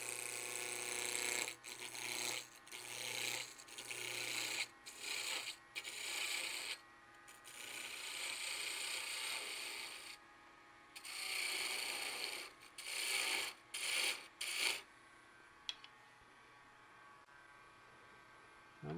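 A spindle roughing gouge cuts wood on a lathe in a series of rasping, scraping passes with short gaps between them, loud and close, as a Christmas tree ornament takes shape.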